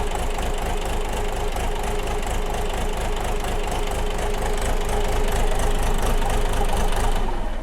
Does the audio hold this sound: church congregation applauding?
no